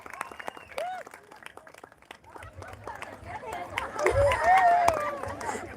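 Audience applause at a live mimicry show: scattered claps and crowd chatter that grow denser and louder toward the end, with voices talking over them.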